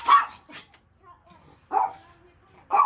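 A dog barks in short bursts at neighborhood kids, three separate barks spread across a few seconds with quiet gaps between them, close and fairly loud.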